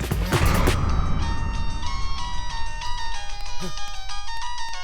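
A mobile phone rings with a repeating electronic melody, loud and steady, as people talk over the start.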